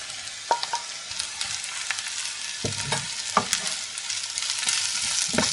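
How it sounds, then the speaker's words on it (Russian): Liver fries in a pan with a continuous broadband sizzle, close and steady, broken by occasional sharper pops and stirring clicks. "потом добавим печень"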